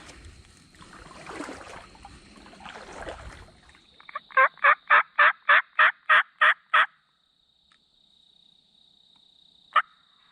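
Wild turkeys during a Georgia spring turkey hunt gobble in a loud, rapid burst of about eight clipped pulses, following soft rustling and a quiet voice, with one more short distant call later.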